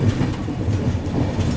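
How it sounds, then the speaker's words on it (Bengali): A passenger train from Kolkata to Dibrugarh rolls on after leaving Pathsala station, with a steady low rumble and rhythmic clickety-clack of wheels over the rail joints, heard from inside the coach without talk. "ছেড়ে দিল আমাদের ট্রেনটি পাঠশালা স্টেশন থেকে"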